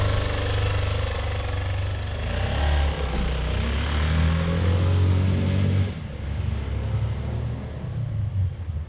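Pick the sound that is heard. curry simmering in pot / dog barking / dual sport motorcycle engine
dual sport motorcycle engine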